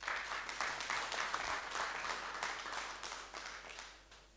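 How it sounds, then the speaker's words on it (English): A press briefing audience applauds a veteran city engineering official, moderate clapping from a modest crowd lasting a few seconds and fading gently at the close. "I think we need to clap for him."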